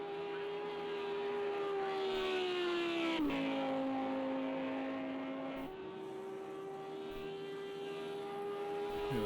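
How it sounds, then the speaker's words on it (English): GT3 race cars in Project Cars 2 at Watkins Glen come around the first corner, a steady droning engine whine that dips in pitch as the pack brakes, fairly faint and continuous. "Looking forward to hearing the cars come around that first corner for the first time."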